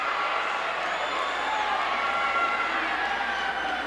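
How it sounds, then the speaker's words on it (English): Wrestling arena crowd roaring at a 1981 match, a steady dense wash of voices throughout with no clear peaks. "that roar is accentuated by the manner in which the crowd responds"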